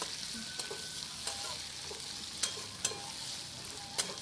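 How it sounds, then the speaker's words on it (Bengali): Sliced onions fry in hot oil over a high gas flame for egg biryani, a continuous close sizzle punctuated by a few sharp stirring clicks, with no voices. "পেঁয়াজগুলোকেও ফ্রাই করে নিতে হবে"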